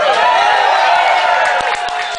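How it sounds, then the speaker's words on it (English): A concert audience at a show in Amsterdam cheers and whoops loudly, with scattered claps popping through as the roar starts to fade. "It's the last bit of applause I'm going to get tonight."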